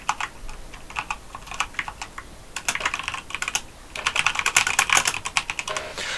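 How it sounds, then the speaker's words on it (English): Rapid clicking of keys on a computer keyboard while text is entered into a PowerPoint timeline, with uneven bursts of keystrokes that grow denser and louder toward the end, close and alone. "and I'm going to type in here"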